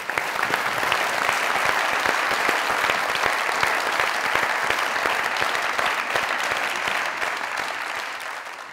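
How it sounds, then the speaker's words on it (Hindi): Enthusiastic applause from a studio audience at a comedy talk show, loud dense clapping that holds steady for several seconds before gradually fading toward the end. "जोरदार तालियां भाई।"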